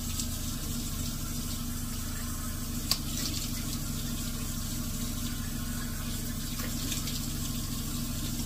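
A tap runs steadily with water pouring into a sink, a continuous close hiss and splash with a faint knock partway through; no talking.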